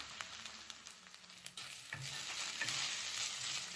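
Ginger garlic paste frying in a pan for chicken thokku, a soft sizzle broken by a few stirring scrapes and clatters, growing slightly louder.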